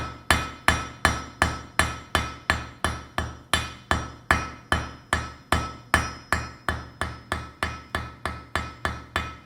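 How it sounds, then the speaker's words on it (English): A blacksmith hammers hot metal on an anvil while forging a spiral, with steady, evenly spaced ringing blows, about two or three each second, each followed by a short metallic decay, close and loud with no talking. "so I'm forging it round because if I'm hammering too much"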